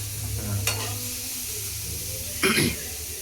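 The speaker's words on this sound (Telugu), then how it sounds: "కొద్దిగా ఫ్రై చేసేసుకుంటే సరిపోతుంది పన్నీర్" Paneer frying in a pan at a street-food stall making paneer pizza, with a steady sizzle and brief stirring scrapes, plus a short burst of louder clatter near the end.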